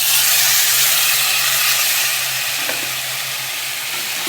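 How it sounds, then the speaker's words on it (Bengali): Water used to rinse out the gravy is poured into chicken curry with potatoes frying in hot oil, giving a loud, steady sizzle and hiss that slowly settles, close up, with no talking. "এবার আমি মাংসের ওই গ্রেভি ধোয়া জলটাকে একটু দেব।"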